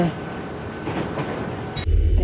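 A train rumbles low and steady as it slows near a station, then the sound shifts abruptly near the end as it comes to a halt.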